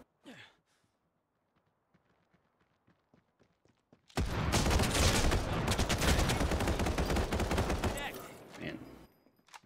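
Rapid automatic gunfire from Final Fantasy VII The First Soldier erupts in a loud, dense burst lasting several seconds, after a quiet stretch of faint ticking footsteps, then cuts off abruptly.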